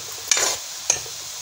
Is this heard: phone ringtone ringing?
no